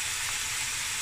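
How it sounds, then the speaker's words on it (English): Onions and meat browning in a pan give off a steady, faint sizzling hiss with no breaks, heard alone. "I'm going to braise the onions and the meat till it's a nice golden brown, brownish color"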